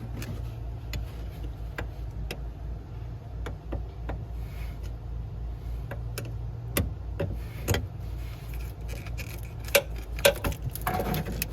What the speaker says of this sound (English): I have a 10mm wrench. I'm going to disconnect the negative terminal.